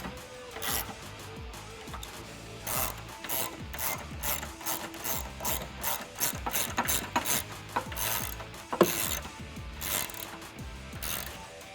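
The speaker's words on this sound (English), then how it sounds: "you may want to take a hand ratchet to this instead of an impact wrench so you don't damage the bolt" A hand ratchet clicks rapidly and repeatedly while tightening T50 Torx bolts on a Jeep Wrangler JL's Rugged Ridge front tube door, close and loud, in quick bursts of pawl ratcheting with brief pauses.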